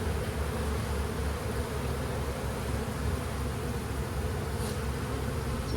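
Honeybees swarm and buzz around a hive in a yard full of nucs, a dense, steady droning hum that stays loud and continuous throughout with no talking.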